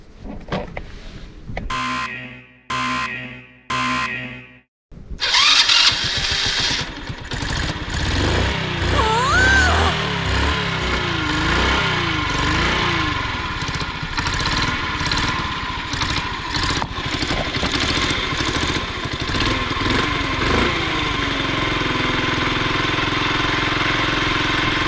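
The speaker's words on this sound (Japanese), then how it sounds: "スパークと燃料が揃ったのでエンジンはかかるはずです。" An old Honda Cub motorcycle, once a non-runner, cranks in a few short bursts and then fires up, settling into a steady, buzzing idle that carries on alone for the rest of the recording.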